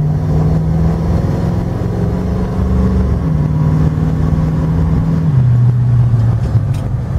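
The engine of a 1967 Ford Mustang GTA S-Code coupé in Limegold idles steadily and close up, holding a low, even rumble with slight shifts in pitch.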